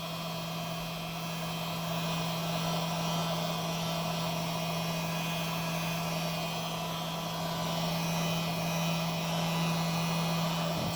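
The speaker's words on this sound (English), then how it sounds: "What I'm doing is I'm having the heat gun on low." A heat gun set on low warms circuit board components to trace a thermal fault, giving a steady close blowing roar with a low electrical hum that runs unbroken throughout.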